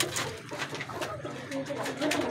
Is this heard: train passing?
no